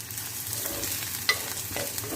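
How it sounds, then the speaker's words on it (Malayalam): Okra and crushed dried shrimp fry in oil in a pan for a Kerala mezhukkupuratti, a steady close sizzle broken by scraping stirs and one sharp clink of the spoon, with no talking. "നന്നായി ഒന്ന് മൊരിയിച്ച് കൊടുക്കണം. നല്ല മൊരിഞ്ഞ് വരണം."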